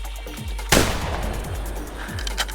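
A hunting rifle fires once in the video game theHunter while ducks fly, a single loud sharp report with a ringing tail, alone with no voices.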